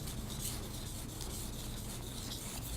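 A knife blade worked in sections along a sharpening stone gives a continuous close gritty rasping and scraping with a faint rhythmic push-pull, alone and without talk.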